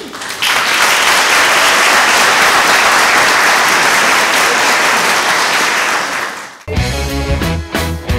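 Audience applause at a televised tribute music program, a dense sustained wash of clapping for about six seconds that cuts abruptly into music.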